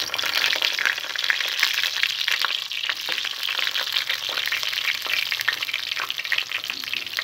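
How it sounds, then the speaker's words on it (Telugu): Tomatoes, onion, dried red chilies and coriander seeds sizzle in hot oil for a gongura tomato chutney, a dense, steady crackling fry with stirring, close and loud, with no talking. "ఎండుమిర్చి, ధనియాలు వేసి ఫ్రై చేసుకోవాలి."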